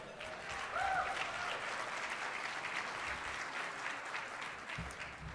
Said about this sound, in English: How about a round of applause for our great controller?